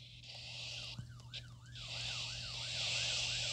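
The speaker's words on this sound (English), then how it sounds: "Who called the ambulance?" A video-game ambulance siren wails in a rising and falling loop, fairly near and growing slightly louder, with a brief clunk partway through and no talking.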